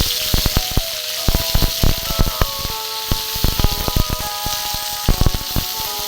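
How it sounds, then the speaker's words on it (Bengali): Ginger, fennel and bay leaf paste fries in oil for a urad dal dish, a dense close sizzle broken by many quick crackles and spits, with no one speaking. "আদা মৌরি আর তেজপাতা বাটা ছিল ওইটা অল্প করে আমি দিয়ে একটু কষিয়ে নেব ওই তেলের মধ্যে"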